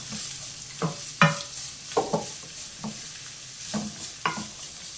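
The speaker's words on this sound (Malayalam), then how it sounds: "നല്ലതുപോലെ ഇളക്കി വഴറ്റിയെടുക്കാം" Chopped large onion sautéing in a pan for palak paneer, with a steady sizzle broken by several loud scraping stir strokes spaced about every half second to second, close and alone.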